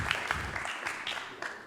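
An audience claps and cheers in a dense wash of applause at a live electronic music performance, steady and close with brief louder bursts throughout.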